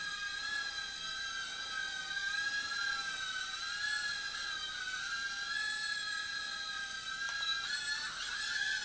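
Lian Sheng LS-113 drone motors whine at full throttle, a steady high-pitched buzzing whir that holds close and constant throughout with slight pitch wavers near the end.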